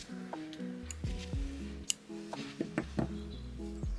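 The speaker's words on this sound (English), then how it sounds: "we're going to cut the yarn and fasten off" Scissors snip yarn close by in a few quiet, sharp cuts among soft handling clicks, faint overall with no talk.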